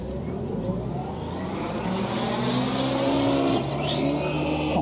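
The engine of a 104-inch Extra 300 RC plane drones steadily in flight, its buzzing pitch shifting as the throttle is eased back over the top of a loop.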